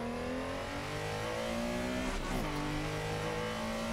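A Porsche Carrera in Assetto Corsa drones at high revs through a slide, engine pitch rising and falling steadily, with a brief burst of tire squeal midway, loud and continuous.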